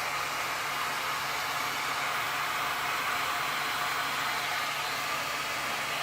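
Steady, broadband whoosh of air blown across a fresh acrylic resin pour on canvas, made with Golden Fluid Acrylics, holding constant and moderately loud without any speech.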